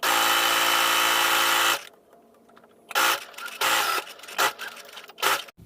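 A sewing machine running a straight stitch: a steady, humming motor whir for under two seconds, then a pause and several short, uneven bursts of stitching, close by with no voices.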